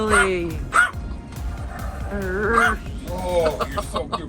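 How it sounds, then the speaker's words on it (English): A dog on a road trip through the Yukon lets out a series of close, throaty growls and whining yips in short bursts, with a person talking softly around them. "That was a big growl."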